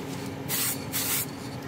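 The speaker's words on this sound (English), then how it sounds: "So get the brass paint again, make sure it's still shaken properly because it does settle, and then do the same thing as before" Brass-coloured spray paint hisses from an aerosol can in two close, steady bursts of under a second each, with a quiet pause between.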